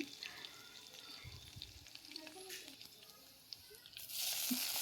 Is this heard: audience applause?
no